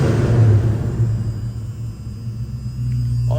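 A 1970 Mercury Cougar's engine idles in a steady low rumble with a constant hum, close and alone, with no talk over it.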